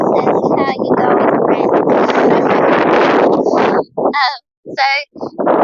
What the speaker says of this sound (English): there's another bit of a gust coming through